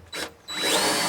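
Power drill driving screws into a board under an outhouse floor at a remote off-grid wilderness camp: a brief whir, a pause, then a rising, sustained motor whine as the screw bites in, close and loud.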